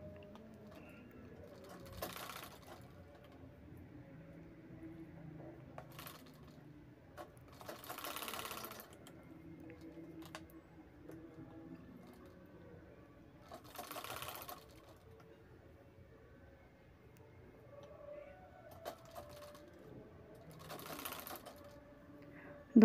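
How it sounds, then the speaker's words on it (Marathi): A sewing machine stitches a fabric bag belt in several short mechanical bursts of rapid needle clatter, separated by quiet pauses, close and moderately loud. "अशा पद्धतीने हा बेल्ट शिवून घेणार आहे।"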